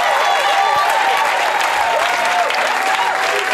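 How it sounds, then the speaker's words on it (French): A standing church congregation applauds and cheers for the Holy Spirit, loud dense clapping that stays continuous throughout with crowd noise mixed in. "On se tient debout pour acclamer le Saint-Esprit. Acclame plus fort que ça."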